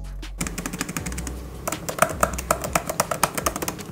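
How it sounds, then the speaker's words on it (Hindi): Rapid, uneven key clicks from typing on the keyboard of a 2023 13-inch Apple MacBook Pro M2 with Touch Bar, close and crisp, in bursts with brief pauses and no talking. "बाकी आपको मैं एक बार इसका क्लिकिंग साउंड भी सुना देता हूं।"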